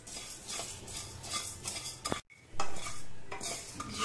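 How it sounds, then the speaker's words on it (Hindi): Cumin and coriander seeds dry-roasting in a pan, a dense continuous rattling hiss with scraping stir strokes, close and fairly loud, broken by a brief pause midway before the scraping resumes. "जीरा को भी हम आधा मिनट धनिया के साथ भून लेंगे"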